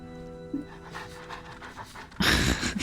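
Dogs pant rapidly and audibly close by, a rhythmic breathy huffing that ends in a sudden loud burst of noise.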